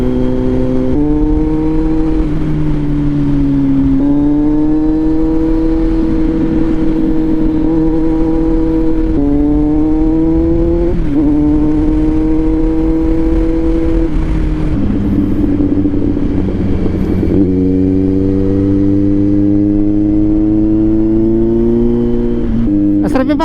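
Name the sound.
motorcycle like a Royal Enfield riding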